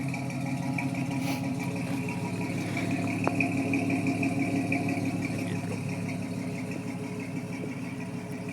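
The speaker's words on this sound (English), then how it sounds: "there's the new exhaust, guys. Sounds a heck of a lot better than it did before." A 1964 GMC truck fitted with a new dual exhaust idles steadily, a low, even engine burble with a light rattle, heard close and alone with no talking.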